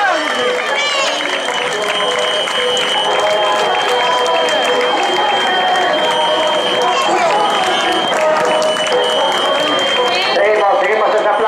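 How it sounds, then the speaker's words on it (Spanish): Crowd applause and cheering along the course of a popular footrace in Meaño, a continuous wash of clapping and voices under an announcer talking throughout. "Seguimos ese aplauso, vean, ya ven esas palmas, arriba."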